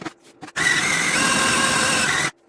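A food processor whirs loudly and steadily for about two seconds while blending a tofu mixture, starting abruptly after a couple of brief clicks and stopping just as sharply.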